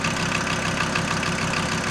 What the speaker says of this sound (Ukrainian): це от моторчик працює чистенько, акуратно, тихенько, осторожно